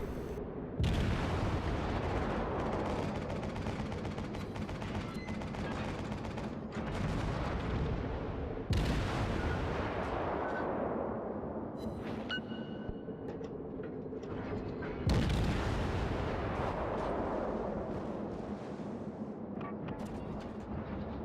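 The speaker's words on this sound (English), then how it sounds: "Putting repeated fire into the enemy battleship" Three heavy cruiser gun salvos boom out at a Tier IV Japanese cruiser's enemy battleship in World of Warships. They land about seven seconds apart, each a sharp blast that decays into a long rumble at moderate loudness.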